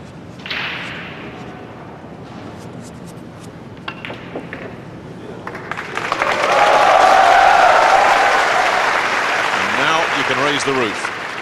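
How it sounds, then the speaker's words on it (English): A crowd at a World 9-Ball pool championship bursts into loud cheering and applause after a quieter stretch of commentary, the swell lasting several seconds under a commentator's voice. "Here's the first big cheer coming up."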